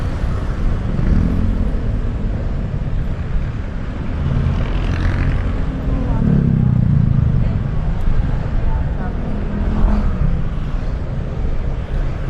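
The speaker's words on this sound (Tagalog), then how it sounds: "Kasi maraming sasakyan na dumadaan dito eh." Steady road traffic with many vehicles passing by, including e-bikes and e-trikes on a busy road, a continuous rumbling wash of engines and tyres rising and falling as vehicles go past, with talk over it.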